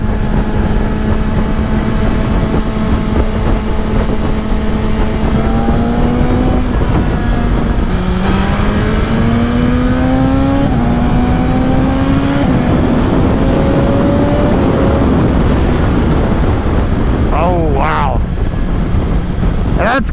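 A 2025 BMW M1000XR sport motorcycle engine revs repeatedly up to 8,000 rpm, its pitch climbing through several gear changes, with heavy wind roar throughout.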